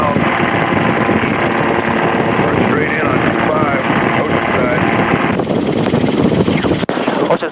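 A helicopter's engine and rotor drone steadily and loudly near Oceanside airport, with a voice speaking radio traffic calls over the noise; the sound cuts off abruptly near the end.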